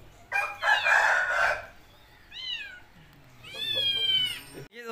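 An Aseel rooster crows loudly nearby, followed by a couple of shorter crowing calls, with quiet pauses between them.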